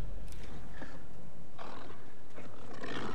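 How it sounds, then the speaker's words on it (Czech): A wolf in the video game Alan Wake 2 snarls and growls in a few rough, breathy bursts over a low ambient rumble, with no talk over it. "A další vlk!"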